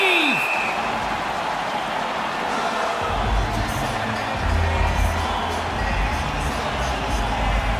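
A hockey arena crowd in NHL 20 roars steadily through a Stanley Cup Final game between the Stars and Lightning, a dense wash of cheering and applause that swells slightly midway and stays loud throughout.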